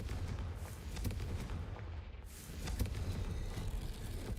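In Hogwarts Legacy, a Confringo fire spell blasts in a corridor: heavy rumbling booms and crackling bursts roll on continuously, loud and dense, with no speech.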